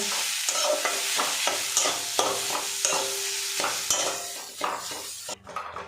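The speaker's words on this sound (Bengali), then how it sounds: "এবার এটা ভালো করে মিক্স করে নেব" Potato filling with turmeric, salt and chopped coriander is mixed in a pan on a gas stove, with quick, repeated spatula scrapes and clinks over a soft sizzle, up close.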